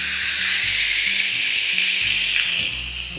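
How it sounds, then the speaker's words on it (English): A smash burger patty sears loudly on a hot griddle turned up to 425, giving a steady, close, broad sizzling hiss that runs throughout without talk. "But you hear that sear? That's what you want."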